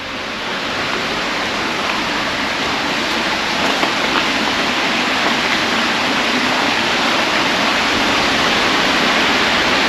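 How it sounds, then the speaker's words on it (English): A waterfall pours inside a coal mine tunnel in New Zealand's West Coast mining country, a loud, steady broadband rush of falling water that fills the space without pause. "Now we have a waterfall inside the mine."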